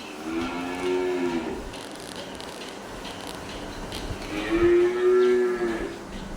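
A Holstein Friesian dairy cow on a farm moos twice, long loud lowing calls near the start and again near the end, close by over steady farmyard background noise.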